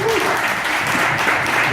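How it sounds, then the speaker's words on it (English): Audience applause for a podcasting and entrepreneurship panel, dense steady clapping from a crowd that holds at a loud, even level with no break. "can we get a round of applause for them?"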